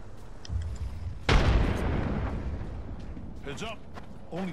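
Gunfire in a battle royale video game, a sudden loud burst of shots and explosive impact that rings out over a sustained noisy mix, with voices talking in the background toward the end.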